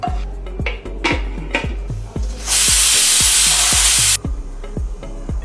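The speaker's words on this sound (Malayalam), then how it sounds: "ഉള്ളി ഒന്ന് ഫ്രൈ ചെയ്തെടുക്കാം." Oil hisses and sizzles loudly as onions hit the pan for mutton biryani, over a steady series of knocking thumps before and after the burst.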